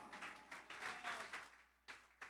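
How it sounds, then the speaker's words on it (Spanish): A church congregation applauds during a sermon, with short bursts of clapping that swell and fade, stopping briefly before two quick renewed bursts near the end, moderately distant and fairly quiet. "Fuerte el aplauso."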